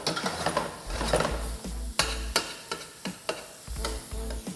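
Repeated scraping stirs spices and salt in a sizzling frying pan for dan dan noodles, with irregular clanks of a utensil against the metal under a steady background sizzle.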